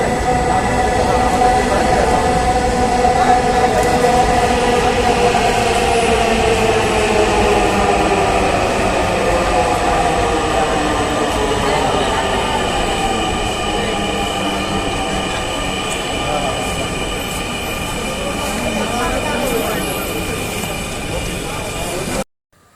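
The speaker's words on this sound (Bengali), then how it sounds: "কিছু সময় পর চলে আসলো আমাদের সেই ট্রেনটি" A Dhaka metro rail train pulls into the station with a loud, steady electric whine whose tones slide downward as it slows, rumbling close for a long stretch before cutting off abruptly at the end.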